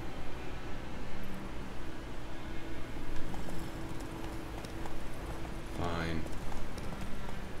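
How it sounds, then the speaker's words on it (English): Horse hooves galloping in The Witcher 3 game, a steady clip-clop rhythm running under constant ambient background, with a brief voice near the end. "Whoa there, Roach"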